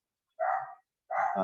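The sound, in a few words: dog barking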